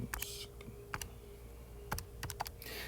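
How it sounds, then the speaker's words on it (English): Keys on a graphing calculator are pressed in a few short clusters of soft clicks, close and quiet against a low background hum. "we can just type it into our calculator"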